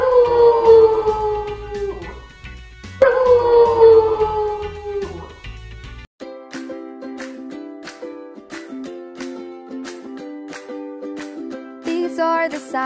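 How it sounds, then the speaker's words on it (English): Two long, rising-then-falling wolf howls sound out, followed by a light plucked melody with sparse percussion. "Wolf."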